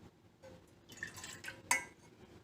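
Milk poured into a pan while making ginger tea, a faint liquid splash and trickle building to a brief sharper clink near the end, quiet and close with no voices.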